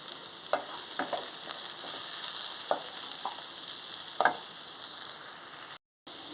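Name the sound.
curry leaves sizzling in hot oil tempering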